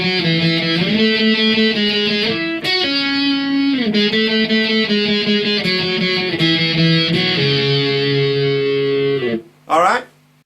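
A distorted electric guitar plays the bridge of a song, loud sustained chords shifting in blocks, then a brief pause and a short final burst.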